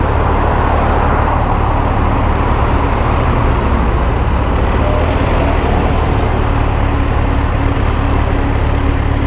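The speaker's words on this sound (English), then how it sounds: "where's all this traffic from?" Steady road traffic rumbles continuously, with cars and trucks passing in a dense low wash of engine and tyre noise heard from a cyclist's position on the road, loud and unbroken, with no voices.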